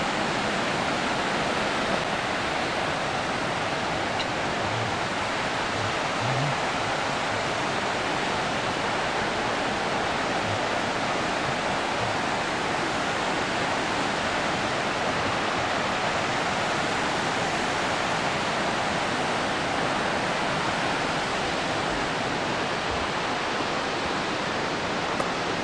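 Croatia's highest waterfall roars in a dense, steady rush of falling water, loud and continuous throughout with no voices.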